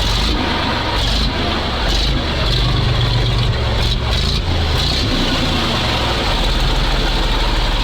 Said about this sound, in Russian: Мотор рабочий, это очень важно.